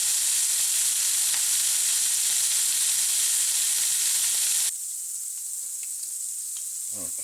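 Blackened shrimp sizzle in a hot pan, a steady, loud hiss that runs unbroken for several seconds, then drops abruptly to a quieter sizzle with a few faint scrapes near the end.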